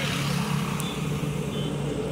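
Steady, continuous traffic roar on the Raipur–Bilaspur express highway, with cars and trucks passing close, no talk.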